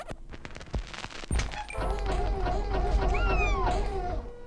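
A small cat in the video game Quadrilateral Cowboy meows in a series of close, repeated cries after a few clicks and thuds from the game.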